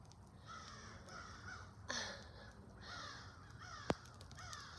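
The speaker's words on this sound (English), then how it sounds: "I don't know if you guys heard that crow." A crow caws overhead outdoors in a few harsh, repeated calls with a louder burst near the middle, over steady background noise and a sharp click near the end.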